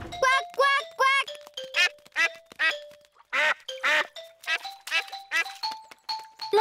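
Cartoon duck quacking from an animated pig family series, a high nasal voice repeating quick bursts of quacks in steady rhythm, loud and close, likely a character voice imitating a mother duck.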